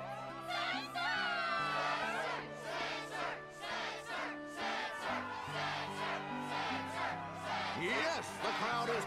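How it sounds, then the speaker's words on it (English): A video game crowd at the Struggle tournament in Kingdom Hearts 2 cheers and shouts excitedly over tonal background music, the voices loud and bursting repeatedly. "Yes, the crowd is fired up"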